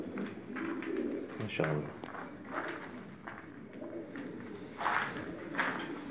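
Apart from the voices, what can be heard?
pigeons cooing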